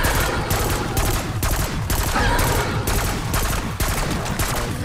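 Rapid automatic gunfire from an upgraded purple-rarity weapon shredding a boss in Black Ops 6 Zombies on the Terminus map, a loud continuous fusillade of dense bursts with brief gaps, no talk over it.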